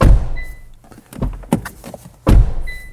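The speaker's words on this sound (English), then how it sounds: "Close the door." The door of a 2022 Hyundai Santa Fe shuts from inside the cabin, heard as a close, solid thunk, preceded by softer handling knocks and clicks.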